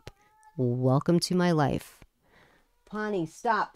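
A male pet cat meows loudly and insistently in a home, its drawn-out cries alternating with a person speaking nearby.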